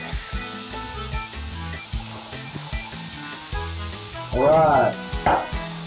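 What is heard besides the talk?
pork sizzling in pan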